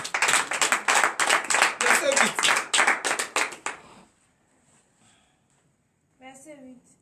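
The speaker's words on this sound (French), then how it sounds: "Donnez l'acclamation à l'Éternel." A church congregation at a morning prayer service in Comè, Benin claps in praise of God, with quick, regular claps for about four seconds, then near silence, then a brief voice at the end.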